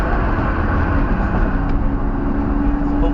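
Lamborghini Aventador S moving through Miami traffic, a steady low engine drone mixed with dense road and traffic noise throughout, no clear revs standing out.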